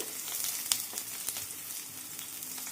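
Green chilies and eggplant pieces frying in oil in a pan, a soft continuous sizzle with a few small crackles and pops, quiet and close with no talking.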